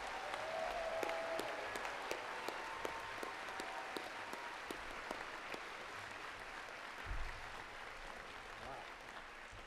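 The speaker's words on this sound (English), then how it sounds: "can we get one more round of applause for our 2021 Summa graduates and their honorees?" Crowd applause for 2021 Summa Cum Laude graduates and their honorees at a high school ceremony, a sustained fairly distant wash of clapping with scattered sharper individual claps throughout.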